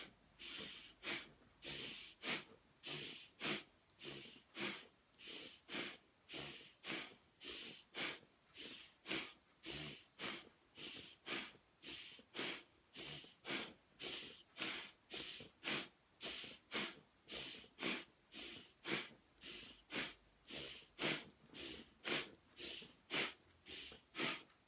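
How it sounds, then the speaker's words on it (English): Someone breathes deeply in a slow, steady breathing exercise meant to relieve stress, with about thirty regular rhythmic breath cycles, close and fairly quiet, with no talk. "Okay, breathe in."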